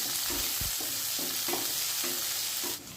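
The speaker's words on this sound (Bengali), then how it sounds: "পেঁয়াজ কুচিটা দিয়ে নাড়াচাড়া করে পেঁয়াজটাকেও হালকা ভেজে নিচ্ছি" Chopped onion fries with black cumin in hot oil under a steady sizzle, while a spatula scrapes the pan in repeated, evenly spaced strokes. The frying quiets slightly just before the end.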